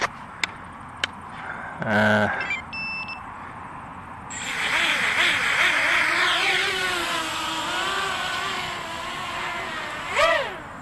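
Small buzzer on a quadcopter flight controller sounds a low-battery warning with a 3-cell battery: a few brief electronic beeps, then the motors spin up and whine loudly, rising and falling nearby.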